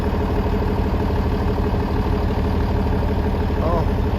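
Tractor engine idling steadily outdoors, a continuous low rumble and drone close by with wind, a brief voice sound near the end.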